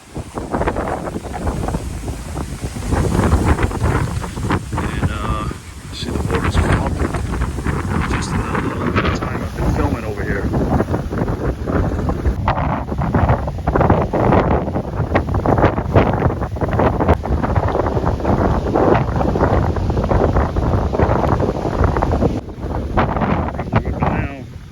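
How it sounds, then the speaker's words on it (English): Strong hurricane wind gusts of about 50 mph buffet the microphone in loud, rough bursts, with churning water and boat noise underneath and people talking intermittently, during Hurricane Milton in Cape Coral, Florida. "we're getting good 50-mile-an-hour gusts"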